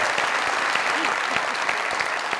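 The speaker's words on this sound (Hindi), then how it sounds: "मेरे लिए तालियां" A studio audience at a comedy talk show breaks into dense, steady clapping for a few seconds, loud and close, with occasional faint cheering mixed in.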